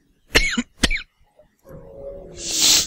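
Two sharp, close coughs in quick succession, followed by a brief throat-clearing rasp and a breathy hiss, all alone with no speech.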